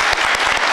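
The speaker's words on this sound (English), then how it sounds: "You can clap for that." Brief, loud audience applause at a Brooklyn literary panel discussion, a dense wash of many hands clapping.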